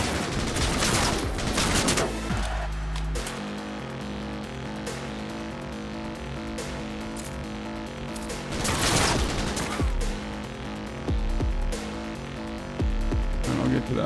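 Rapid, dense gunfire rattles through a Cyberpunk 2077 firefight, sustained bursts and fusillades over a low game hum, loudest at the start and in later surges.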